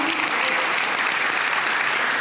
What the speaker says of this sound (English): Please give a round of applause to Alice Flanagan, Chrissy Levett, and Haydn